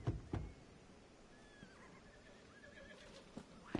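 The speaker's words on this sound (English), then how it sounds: "Why am I hearing horses?" Horses neigh and whinny in the video game Final Fantasy XV, a couple of sharp calls early and more near the end, with faint hoofbeats and drawn-out whinnies in between over a low ambient game background.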